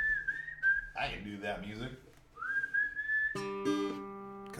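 A person whistles the melody of a song, a clear sustained tune with a short spoken phrase in the middle and a guitar-like chord near the end, close and fairly quiet.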